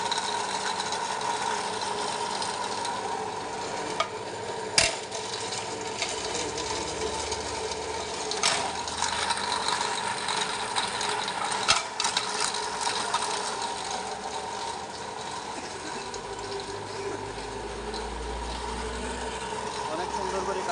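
Cutting machine at work with a steady mechanical drone, a rattling ratchet-like texture and occasional sharp knocks, heard up close over about twenty seconds, with voices faintly in the background.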